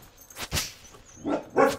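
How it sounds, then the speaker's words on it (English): A dog barks indoors, giving a few short, sharp barks spaced apart, fairly close and loud, with no talking over them. "You don't need to bark at every dog in the neighborhood."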